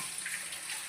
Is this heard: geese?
no